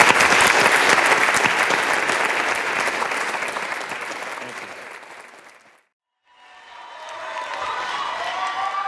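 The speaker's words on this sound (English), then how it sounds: "Give him a round of applause." Sustained audience applause follows a prepared talk, loud and dense at first, then fading out before a brief silence and a second, softer round of clapping.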